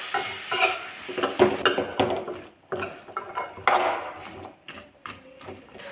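Chopped papaya is being stirred into hot oil and browned chilli powder in a pan. A spoon scrapes and knocks against the pan under a steady sizzle, close and fairly loud, with a brief pause midway.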